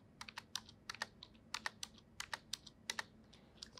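Keys on a computer keyboard clatter as MATLAB code is typed, in quick irregular bursts of crisp taps, close and quiet, with no talk.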